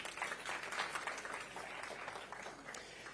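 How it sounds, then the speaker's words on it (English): A conference audience applauds a keynote guest with a steady wash of many hands clapping, heard distant and faint and sustained for the whole short stretch without a clear ending. "So a round of applause for Owen Ripley, who has kindly donated his time."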